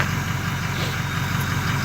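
A 2005 Ford F350 diesel truck idles close by, a steady low rumble with a faint turbo whine over it, brief and alone.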